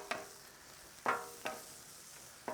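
Cheesesteak with Cheez Whiz gets flipped on a griddle with a professional spatula: four sharp metal scrapes at uneven intervals over a soft, steady sizzle, with no talking.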